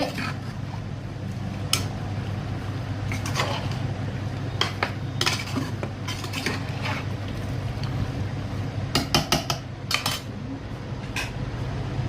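A metal spoon clinks and scrapes against a pot of kuzhambu after water is added, in scattered bursts, close by, over a steady low hum.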